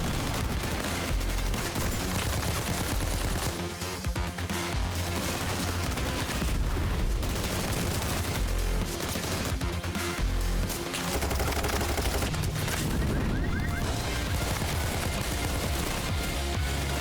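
Dense, continuous gunfire from a Payday 3 shootout with armored SWAT officers, heavy bursts and booms layered loudly and without pause across the whole stretch, no voices over it.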